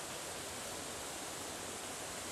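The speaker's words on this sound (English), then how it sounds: "Can't remember the name of this waterfall" A waterfall at Black Linn Falls on the Rotten Calder in Lanarkshire, Scotland, gives a steady broadband roar, loud and unbroken, with no voices.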